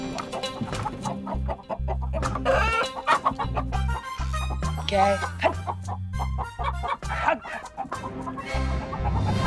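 A hen clucks in short, repeated bursts in a royal court scene, mixed with background music, while a person briefly speaks over it.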